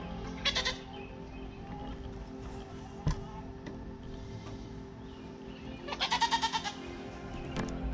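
Meat goats on a farm bleat close by, one short wavering call near the start and a longer quavering bleat later, over quiet background noise and an occasional knock.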